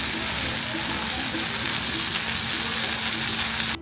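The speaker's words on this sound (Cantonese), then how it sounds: "煲滾熱辣嘅就係啫啫黃鱔" A claypot of jeh jeh eel hisses and sizzles in a busy Hong Kong eatery, a steady dense crackle with no pauses and a faint low hum of the room underneath, stopping abruptly at the end.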